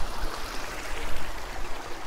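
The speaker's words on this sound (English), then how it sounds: "This has a spectacular water feature that starts off with a waterfall that falls into a stream" A backyard waterfall spills into a stone-lined stream crossing the rear yard of a Reno, Nevada home, giving a steady, full rush of splashing water with no voices.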